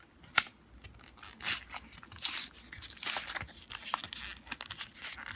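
A Pokémon card blister pack is torn and crinkled open by hand, with a sharp rip near the start and several bursts of tearing plastic and crumpling foil close to the mic.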